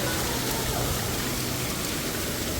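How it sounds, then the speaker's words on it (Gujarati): Heavy rain pours down in a dense, continuous hiss, loud and even throughout with no pauses and no voices. "આમ એટલો વરસાદ આવે છે અત્યારે."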